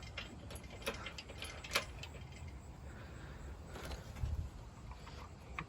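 A ratchet wrench clicks while loosening a bolt on an engine newly fitted with piston heads, during engine removal; brief bursts of ratcheting stand out over a steady low mechanical background, close by and moderately loud.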